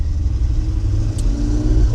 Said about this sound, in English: It's got a tooth belt drive on at the moment, which gives it a whine